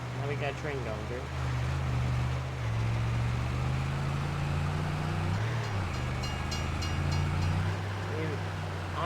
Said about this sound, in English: Now we got a train going through.